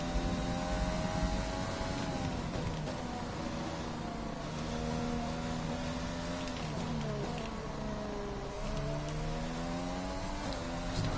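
F1 car engines from the F1 2020 game scream steadily at high revs, a dense harmonic whine whose pitch dips and climbs with gear changes and throttle across the whole stretch, loud and continuous with no talk.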